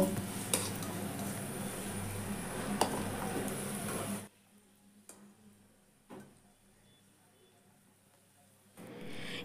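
Fried potatoes lifted out of hot oil in a pan into a bowl: loud continuous sizzling for a few seconds, then quieter scattered clinks and scrapes of the utensil.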